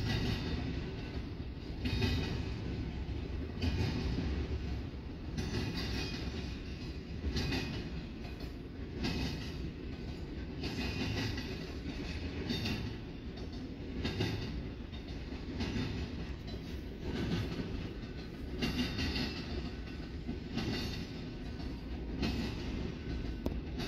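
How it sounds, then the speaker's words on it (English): An eastbound Union Pacific double-stack freight train rolls past, its rumble steady for the full length with rhythmic clickety-clack from wheels crossing rail joints, fairly close and continuous, no voices. "Here comes the end of our eastbound Union Pacific stack train"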